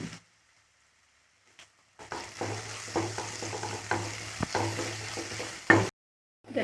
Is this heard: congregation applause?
no